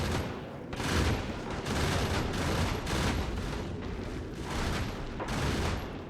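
Rapid bursts of automated turret gunfire in Factorio, a spacecraft-based game scene, rattle in repeated volleys of several seconds each, loud and dense with no talk over them.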